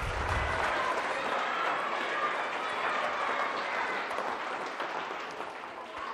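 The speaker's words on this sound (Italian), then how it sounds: "un bel applauso a Olimpia" Audience applause for Olimpia in a sports TV studio, a steady wash of clapping lasting several seconds at a fairly constant level, tapering slightly at the end.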